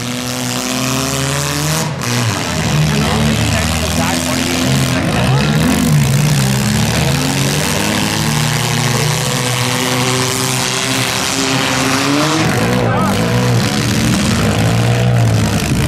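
Battered mini stock cars at a Schomberg, Ontario demolition derby roar and rev continuously, engines rising and falling close by, with a few dull impact thuds and an announcer speaking over the din.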